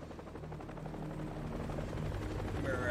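A video game helicopter drones steadily with a low rotor thump that holds level and swells slightly toward the end, heard alone without talk.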